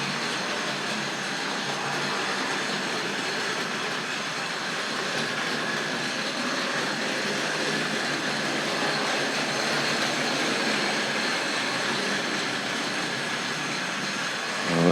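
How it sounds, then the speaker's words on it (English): A Hornby model railway with an Ivatt Class 2 locomotive and a second engine runs around the track, producing a steady, continuous rolling clatter of small wheels on rails close by, with no talk. "Let's see if we can get the pair of them running around the railway accident-free."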